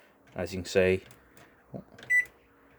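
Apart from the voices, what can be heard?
microwave oven beep as the eco button is pressed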